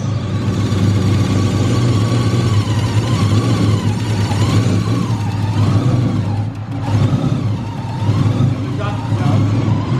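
Turbocharged BMW M52 engine being run on a dyno in a workshop, a loud continuous drone with steady low hum and rising, falling revs, dipping briefly near the middle, with people talking faintly beneath.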